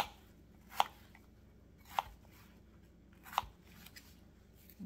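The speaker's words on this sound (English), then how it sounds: "So I'm going to slice my onions up." A knife slices through red onions in three or four separate crisp cuts spaced about a second apart, each one close and distinct against a quiet room.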